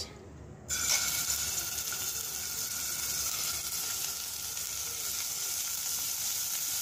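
Prawns sizzling in a little hot oil in a saucepan for Thai soup, a loud steady hiss that starts abruptly after a brief quiet moment and holds at an even level throughout.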